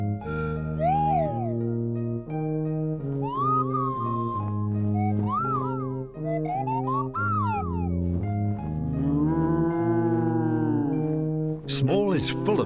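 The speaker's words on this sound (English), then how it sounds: "Even a Sky Moo has come to see what's going on." Sky Moo creature from the Clangers children's TV show, heard as swooping, sliding tonal calls rising and falling through a melodic musical passage, steady and close throughout.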